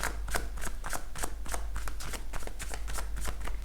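Tarot cards are riffled and shuffled in quick repeated bursts, a close, crisp rhythmic flutter of paper snapping at a steady pace with no talk over it.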